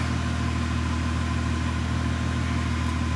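A car's air suspension airs up in a garage, its pump producing a loud, continuous, even hum that holds unchanged throughout.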